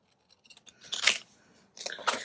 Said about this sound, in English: I'm going to grab a larger pair of scissors, because I don't trust myself cutting, and we're going to cut